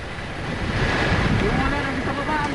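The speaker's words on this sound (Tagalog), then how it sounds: "Tuloy-tuloy rin ang agos ng tubig." Water flows steadily at the collapsed Panian mine pit, a dense continuous rush and roar with wind buffeting the microphone, unbroken and fairly loud throughout with no clear voices.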